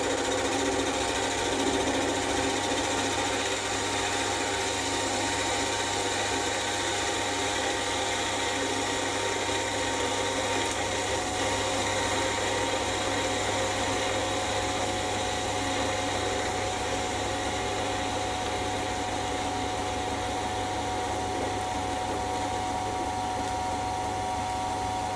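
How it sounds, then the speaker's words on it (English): A metal lathe runs steadily while machining stock held in an independent four-jaw chuck, a constant close mechanical whine and hum holding an even level throughout, with no voices. "To machine this, I've swapped over to the independent 4-jaw chuck, since the inside jaws can hold a much larger piece of stock than the scroll chuck."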